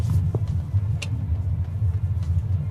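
A car with a Maserati-tuned engine corners on the road, giving a low, continuous engine and road rumble from inside the cabin, with brief faint knocks and a short high click along the way.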